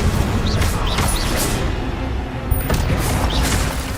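Incendio fire spells cast repeatedly in Hogwarts Legacy, loud close bursts and booming blasts with whooshing flares, several in quick succession over dense game noise.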